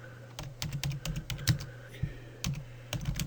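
Steady, uneven keyboard clicking, close and moderately loud, with short pauses between clusters of keystrokes.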